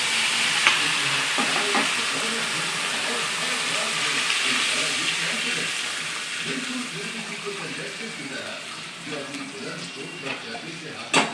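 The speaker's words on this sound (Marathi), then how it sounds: "पाणी टाकते आता" Water is added to a pathode bhaji mixture of vegetables, turmeric, asafoetida and coriander leaves frying in a pan, producing a steady, dense sizzle and hiss that continues close and loud throughout, with faint clinks near the end.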